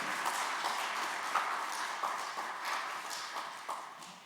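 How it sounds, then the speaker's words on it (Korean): Audience in a Korean church ordination ceremony applauding, an even, moderately faint patter of many hands clapping throughout, slowly tapering toward the end. "다시 한번 박수해 주시기 바랍니다."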